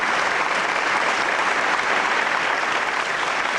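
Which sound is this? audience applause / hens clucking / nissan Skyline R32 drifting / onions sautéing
audience applause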